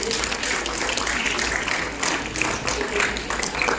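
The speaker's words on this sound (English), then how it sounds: "Please give her a huge round of applause." Audience applause at a school's annual games and sports prize distribution ceremony, steady broadband clapping from a large crowd holding an even level throughout, with some voices mixed in.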